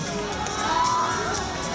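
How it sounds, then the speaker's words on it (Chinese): A concert crowd at a fan event roars with cheering, whoops and shouts, a dense, steady wall of excited voices close around the listener for under two seconds. "是他，掌声欢迎他"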